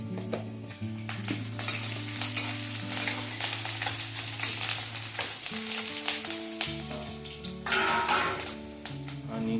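Curry leaves sizzle and fry steadily in a hot pan with oil, the start of a village-style sabudana breakfast in Maharashtra, with a continuous crackling hiss and occasional stirring, and steady tonal music playing underneath throughout.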